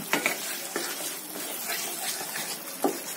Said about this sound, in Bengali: মশলা কষানোর পর আমি দই ফেটানো দিয়ে দিলাম।